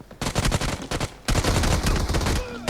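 Rapid gunfire in PUBG Mobile, two dense bursts of automatic shots, the first fast and stuttering, then after a short break a longer sustained burst, loud and close.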